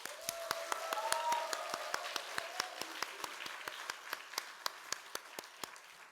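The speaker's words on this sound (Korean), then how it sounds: "우리 환영의 박수, 축복의 박수 하겠습니다" A church congregation claps in welcome during a Sunday morning service, the claps coming as an even, rhythmic beat at moderate distance, with a brief sung or hummed tone early on.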